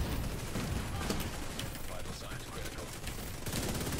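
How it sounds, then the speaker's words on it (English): Gunfire in The Division 2 rattling in dense, continuous bursts from a shooter across the map, steady and moderately loud throughout with no clear pauses. "Sniper is shooting me on the other side."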